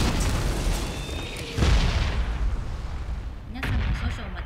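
Fireworks go off in the video game PUBG: two separate booming bursts a couple of seconds apart over a steady background rumble, each with a crackling tail.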